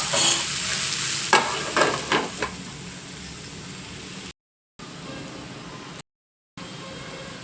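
Carrot pieces cook in a pan over low heat with a soft steady sizzle and a few scraping stirs early on, broken by two short gaps of silence.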